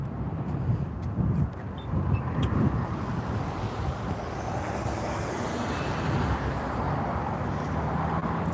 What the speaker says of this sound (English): We're gonna have to wait for the traffic.